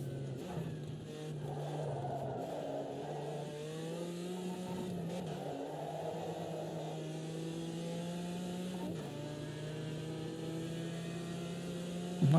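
A race car engine in Automobilista 2 drones steadily, with its pitch rising and falling through gear changes and sharp throttle blips on downshifts, loud and close with no talking.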